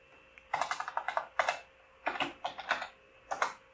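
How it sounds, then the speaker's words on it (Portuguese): A git command is typed on a computer keyboard, quick clusters of crisp, close key clicks in short bursts with small pauses between them, fairly quiet and with no voice. "Então vou digitar aqui git"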